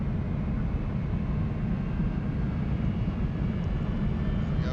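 Twin jet engines of an Embraer E-175 in X-Plane 11 roar at full takeoff thrust during a go-around, a steady dense low rumble with a hissing upper wash, continuous and unbroken with no talking.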